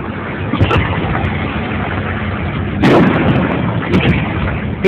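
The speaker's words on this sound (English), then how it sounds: "So, sitting here watching some fireworks, Mr. Jacker Doodle, here, having some fun" Fourth of July fireworks burst over a steady background roar, with a few sharp loud cracks and one bigger boom heard from a distance outdoors.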